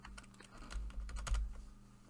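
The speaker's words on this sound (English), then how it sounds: "I held Control and hit my plus sign on my keyboard" Keys pressed on a computer keyboard, a Control and plus shortcut: a short burst of close, crisp clicks with no talking.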